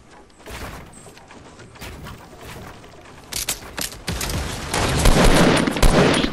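Bursts of Fortnite gunfire crack out repeatedly, sparse at first and then building into dense, loud volleys of rapid shots in the second half.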